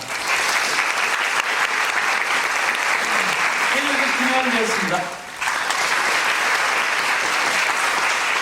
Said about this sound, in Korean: 스태프분들한테 박수를 한 번 주시면 감사하겠습니다